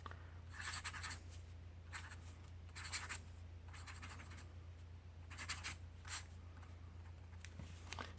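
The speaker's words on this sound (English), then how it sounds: "Here's hoping it looks like something as I write it." A fountain pen, one of a set of old pens from about a century ago, writing on paper: soft rhythmic scratchy strokes in short bursts over a quiet steady hum.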